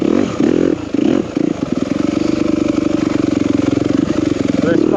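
A 2021 Yamaha YZ250FX four-stroke dirt bike revs hard and close while being ridden, with a buzzy, pulsing engine note that rises and settles and a few sharp throttle blips near the start.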